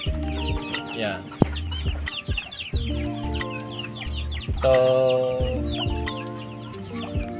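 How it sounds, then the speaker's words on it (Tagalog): Chickens cluck and squawk busily in a backyard coop in Pangasinan, with overlapping calls close by while a person speaks briefly. "para po may kulungan po yung mga manok na inuwi ko"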